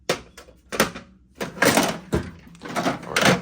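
A drawer on a Snap-on portable toolbox slides and thunks, with several close metallic knocks and rattles in irregular bursts as drawers and tools move.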